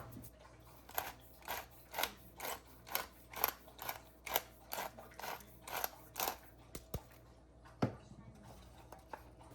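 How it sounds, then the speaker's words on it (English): Cracked black pepper ground from a pepper grinder into a chickpea dish, a steady series of about a dozen rhythmic crunchy grinding bursts, close and fairly quiet, with a couple of stray knocks near the end. "I'll also add some salt here and lots of cracked black pepper."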